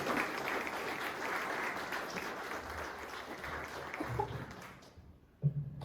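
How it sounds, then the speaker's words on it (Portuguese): Audience applause at a Portuguese-language talent event, a soft, distant wash of many clapping hands that holds steady, then tapers off near the end, followed by a brief thump. "salva de palmas"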